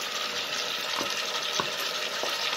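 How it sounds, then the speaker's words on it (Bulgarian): Pork frying in a pan as tomato paste is stirred in, a steady close sizzle broken by three short spatula scrapes roughly evenly spaced. "Разбърквам."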